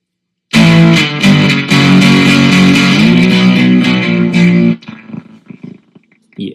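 Pine-Box Customs Crooked Teeth pedal with its LFOs inverted, a loud distorted guitar chord warbling under modulation for about four seconds, then cutting off into a faint ringing decay with scattered quiet noise.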